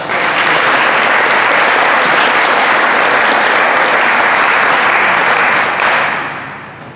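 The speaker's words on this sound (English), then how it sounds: "A round of applause for our" Loud, dense applause fills an FFA awards banquet, holding steady for about six seconds before tapering off quickly, with no voices heard over the clapping.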